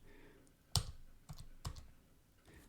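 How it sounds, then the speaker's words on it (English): A few sharp keystrokes on a computer keyboard, spaced clicks entering a search quickly, close and fairly clear over a quiet background. "I'm just going to type it in so I can find it quicker."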